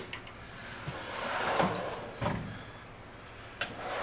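A workshop tool drawer slides open, with a rolling scrape and a few light knocks and clunks of tools shifting inside, close and moderately loud.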